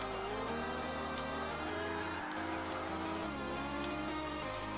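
A Toyota Supra with a lower-horsepower drift build slides in Forza Motorsport 5, its engine droning steadily with shifting pitch and revs rising and falling over faint tyre noise, with no voices.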